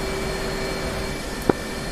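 A jet aircraft engine in the DCS flight simulator hums and whines steadily throughout, with a sharp brief click or knock near the end.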